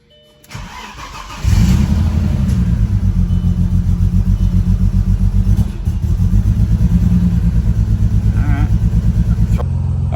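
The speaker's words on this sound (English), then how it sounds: "Okay, let's crank it up. Here we go, first start." Car engine being cranked after a new Link plug-and-play ECU install, catching and settling into a steady, loud idle with a regular pulsing rumble up close; no talking.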